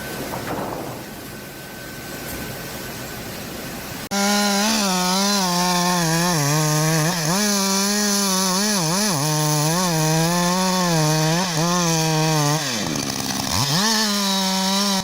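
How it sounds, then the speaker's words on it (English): Chainsaw cutting wood outdoors, a loud steady high whine after a quieter opening, with the engine pitch dipping and rising as the blade bites, then falling away near the end. "The razor-sharp chainsaw screams in bursts, echoing through the forest air."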